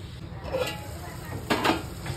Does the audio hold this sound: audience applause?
no